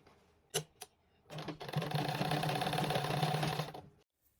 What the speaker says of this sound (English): I'll drop the bar lifter and then I continue sewing